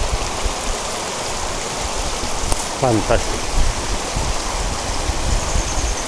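Water streams steadily through a homemade water-powered mill model at a technical museum, a constant wash of flow heard close by with people talking briefly over it.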